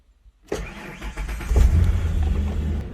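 A 1994 Ford Ranger with a manual gearbox cranks briefly and then fires up, settling into a loud, close, rough idle.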